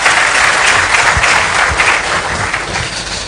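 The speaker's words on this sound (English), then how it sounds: "Another round of applause for our Foreign Service." An audience at an ambassadors conference claps loudly and continuously, a dense close wash of applause that holds steady before easing slightly toward the end.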